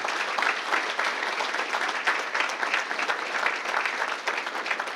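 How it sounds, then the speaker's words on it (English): A kick-off event audience claps for a project team, a loud, dense, sustained round of applause from many hands, even and continuous from start to finish. "So the great round of applause for this team here"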